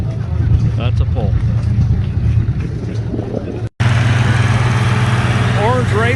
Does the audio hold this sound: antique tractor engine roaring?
yes